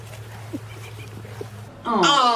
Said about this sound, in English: Bring back the puppies.